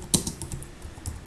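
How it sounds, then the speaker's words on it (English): Keystrokes on a computer keyboard while drafting a blog post, a short irregular burst of close, crisp taps with a few louder clicks standing out. "And let's just say I start typing"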